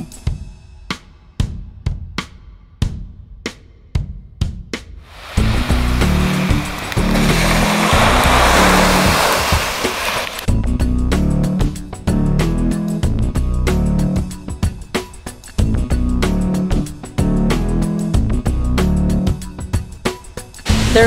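Waves wash in on an empty Escondido Beach in Malibu, a loud rushing surge of surf after a stretch of sharp taps, with breaking water continuing under scattered knocks.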